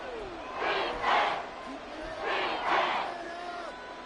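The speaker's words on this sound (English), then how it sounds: "the crowd getting into it as we come up on a big 3rd down" A stadium crowd in Madden 24 on PS5 roars in two swelling waves ahead of a big third down, a broad rising and falling cheer with no speech over it.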